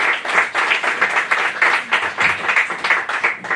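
A comedy show audience in London applauds with dense, steady clapping that swells in rhythmic waves throughout, loud and close with no talking over it.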